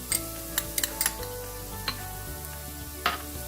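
Onions fry in a pan with a soft, continuous sizzle, broken by a few sharp ticks and clinks of utensils, fairly quiet and without talk.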